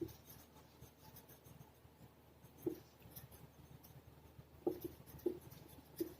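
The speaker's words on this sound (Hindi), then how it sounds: "एक सेंटेंस और लिख देता हूं।" Chalk or marker writes a sentence on a board in an English grammar class, giving a faint scratching with a few soft taps and strokes in a quiet room.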